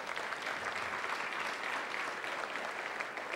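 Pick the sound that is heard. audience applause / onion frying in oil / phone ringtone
audience applause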